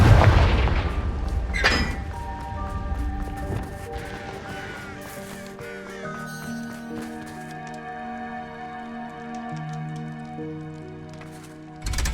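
Explosive spell blasts from Confringo and Bombarda in the Hogwarts Legacy game: a loud booming impact at the start, then a fading rumble under sustained tonal game music.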